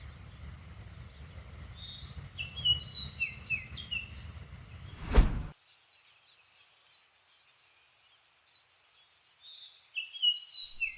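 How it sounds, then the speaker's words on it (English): Birds sing at sunset around a woodland camp, with scattered high chirps and whistled phrases over quiet background, interrupted by one sharp thump midway, after which faint calls continue. "listen to the birds sing as the sun starts to set"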